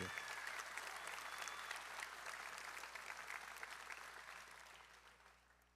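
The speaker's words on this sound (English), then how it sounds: "Another round of applause for Tyler Takahashi." Sustained audience applause at a school class night ceremony, dense and steady clapping from a large crowd that gradually fades toward the end.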